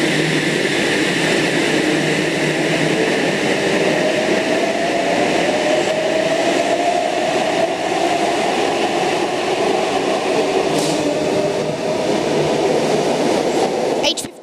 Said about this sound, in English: We now have that 8-car Oscar departing platform 2, Bondi Junction service